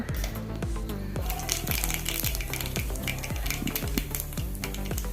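Mustard seeds spluttering in hot coconut oil in a pan for a Kerala-style palak thoran: steady sizzling with rapid, irregular popping and crackling, close and busy throughout, with no talk.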